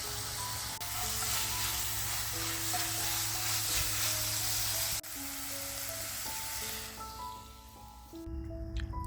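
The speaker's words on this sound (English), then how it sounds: "I like to saute them first to give them extra flavor and a firmer" Onions sauté in a hot pan for a bratwurst topping, giving a loud, steady, close sizzle that runs unbroken throughout, with a slight dip near the end and no voices.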